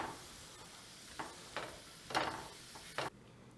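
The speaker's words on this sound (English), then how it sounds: "So I'm just going to stir this up for a minute" Yellow squash with basil stirred in a hot pan, a soft sizzle under several distinct scraping stirs of a utensil against the pan, close and quiet.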